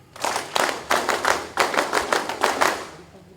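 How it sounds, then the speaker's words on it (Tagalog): Claps ring out in five or six short bursts from an audience at a Philippine Army training-class ceremony, each bunch of hand strikes brief and fairly close, with quiet gaps between. "No! Palakpak!"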